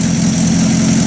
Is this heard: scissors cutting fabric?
no